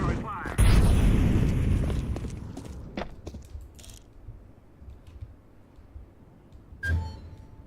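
A fire grenade thrown in a Counter-Strike style shooter bursts into a loud, roaring whoosh of flame that fades into crackling debris, with a sharp clank near the end.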